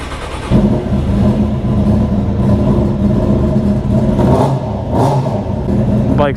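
A cold motorcycle engine just after a wash, running rough and loud close by with a steady, uneven idle throughout and slight rises in revs, a brief voice near the start.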